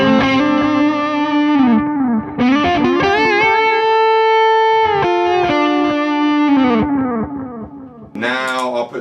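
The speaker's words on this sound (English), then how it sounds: "So just so you got that vapor trail sound, I'll do that load of distortion stuff again." A heavily distorted electric guitar plays sustained notes and chords through a Seymour Duncan Vapor Trail analog delay pedal, with ringing repeats trailing each phrase and a short burst of scraped, noisy notes at the end.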